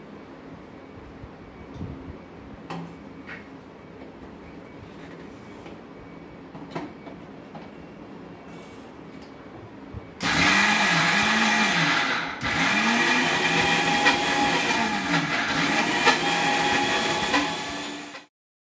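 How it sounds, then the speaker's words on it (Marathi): A mixer grinder grinding soaked lentils with cumin starts up loudly and whirs steadily, pauses briefly, then runs again before cutting off. Faint room noise comes before it. "डाळ आपण मिक्सरमध्ये घालून घेतली आहे."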